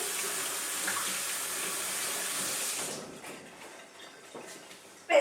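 Tap water runs steadily over hands to rinse off sticky pizza dough, a loud even gush for about three seconds before it shuts off, leaving faint rubbing and handling sounds.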